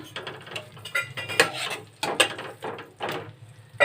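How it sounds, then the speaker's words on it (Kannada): Palak aloo curry is stirred in a pan in a restaurant-style home kitchen: a spoon scrapes and clinks against the metal in irregular strokes, with soft knocks between them and no talk. "ನೀವು ಈ ಥರ ಮಿಕ್ಸ್ ಮಾಡ್ಕೊತಾ ಇರಬೇಕು ಇಲ್ಲಾಂದರೆ ಬೇಗ ತಳ ಹತ್ಕೊಬಿಡುತ್ತೆ"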